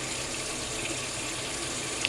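A shower runs in a home bathroom, giving an even, continuous hiss of spraying water that stays steady throughout with no voices over it.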